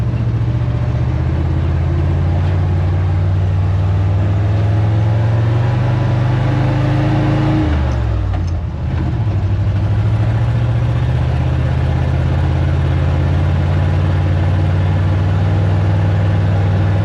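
A vehicle hauling an old tractor through Alameda, rolling through a stop sign in heavy traffic: steady low engine drone close by, with a brief dip and shift around the stop before the hum resumes evenly.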